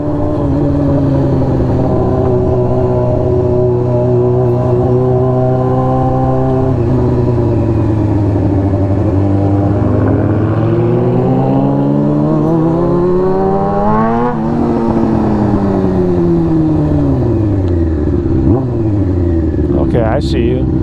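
Several passing cars and revving engines in a busy city street at night, engine tones rising and falling as vehicles accelerate past, with steady background noise and occasional speech.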